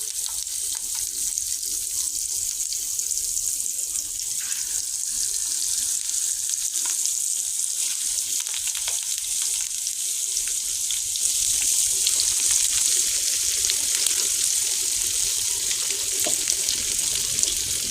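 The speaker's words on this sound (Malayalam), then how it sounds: "വെളിച്ചെണ്ണ ചൂടായിട്ടുണ്ട് ഇനി നമുക്കിതിലേക്ക് കരിമീൻ ഇടാം" Pearl spot fish (karimeen) fry in hot coconut oil, giving a continuous bright crackling sizzle that holds steady and grows a little louder toward the end, with no talking.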